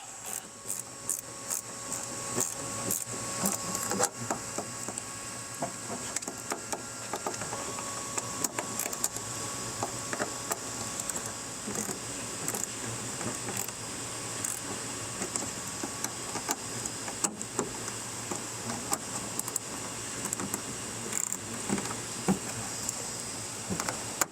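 Screws are driven snug into Rokblokz rally mud flaps on a 2024 Ford Ranger, a long run of quick, regular clicking ratchet or driver ticks with brief pauses, close and moderately quiet over a faint steady hum.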